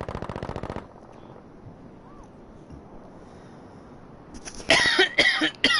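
Coughing from a commentator during an official CCL league match, heard as harsh bursts near the start and again at the end, loud and close, over a steady windy background hiss.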